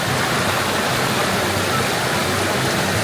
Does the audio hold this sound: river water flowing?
yes